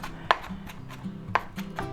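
Vegetables being chopped with a knife: two sharp, distinct cuts about a second apart against a board, close and clear, set over a low background hum.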